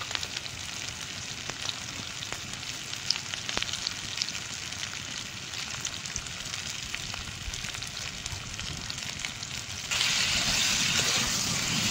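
Elephant foot yam and prawns sautéing with green chilli, turmeric, salt and chilli paste, giving a steady, busy sizzle and crackle throughout, which grows louder and brighter near the end.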